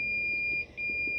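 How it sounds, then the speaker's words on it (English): A PNW Drinkware tumbler heat press gives a sustained electronic beep during a temperature adjustment, a steady high tone that briefly dips in the middle before resuming, close and clear over a quiet background. "adjusting the temperature, it's gonna beep."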